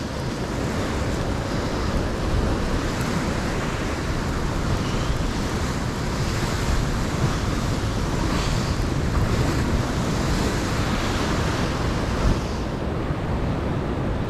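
Ocean surf at a surf break called Witches, with a constant loud wash of waves and heavy wind buffeting the microphone, steady throughout and no voices.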